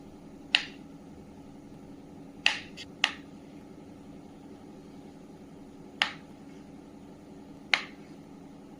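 A knife chops 150 grams of paneer into pieces on a board, six sharp, separate taps spaced irregularly over a quiet background with a faint low hum.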